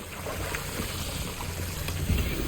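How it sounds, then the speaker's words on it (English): Water in the Hogwarts video game: gentle lapping and washing, like low waves, over a soft windy wash, with a slightly louder swell near the end. "Ooh, water."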